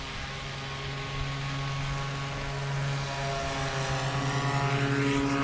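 A STOL light propeller aircraft taking off from a grass runway at a short takeoff and landing competition in Ontario, Oregon, its engine droning steadily and loud, with the pitch rising slightly as it climbs away.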